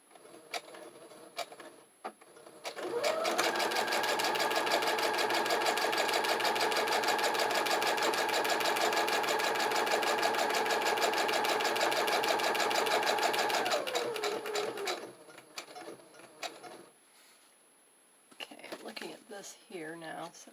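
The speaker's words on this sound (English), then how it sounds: "we're going to sew the second piece" A sewing machine stitches a junk journal page, running steadily and close for about eleven seconds after a brief start, then stopping; soft talk and handling noises come before and after the stitching.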